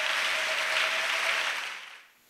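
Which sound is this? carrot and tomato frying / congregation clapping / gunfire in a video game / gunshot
congregation clapping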